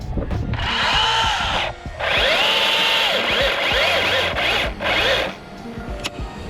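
A chainsaw cuts into a standing tree trunk during whole-tree rigging, running loud and close in bursts with the engine revving up and easing off several times before dropping to idle near the end.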